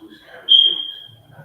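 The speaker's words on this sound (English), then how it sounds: "I'm hearing a sound of like a whistle on your background. It keep coming and going." A thin, steady whistle-like tone rises suddenly and fades over about a second in the background of an online class, with faint murmuring talk around it.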